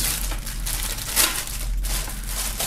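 Plastic shrink-wrap foil crinkling and tearing as a sealed album and belt bag from an unboxing are opened, a steady soft rustle with one sharper crackle midway, no talking.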